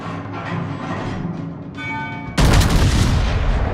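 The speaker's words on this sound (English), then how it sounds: "More shots out at the Massachusetts." Naval gunfire from warship guns in the World of Warships game booms out as a sudden loud salvo, its broad roar cutting in sharply over a rumbling background of engine and sea noise, with no speech.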